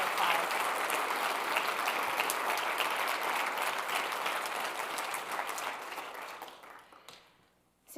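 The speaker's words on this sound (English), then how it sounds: "So let's give everybody a round of applause." An audience at a UW-Stout investiture ceremony applauds in a dense, sustained wash of clapping that holds steady, then thins and fades away in the final second.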